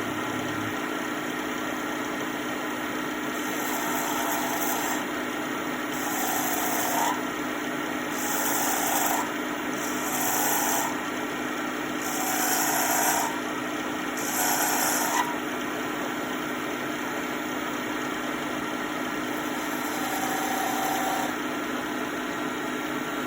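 A turning tool texturing a slimline pen on a wood lathe, the motor humming steadily throughout while bursts of cutting noise come in repeated short passes of a few seconds each, with no talking.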